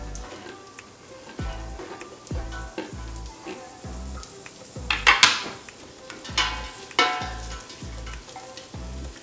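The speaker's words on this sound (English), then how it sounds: "So we're gonna be cooking our onions until they become a little bit translucent, transparent." Garlic and onions sauté in a pan with a steady sizzle and frying crackle, broken by repeated scraping stirs and clinks of a utensil against the pan, close and fairly loud with no talking.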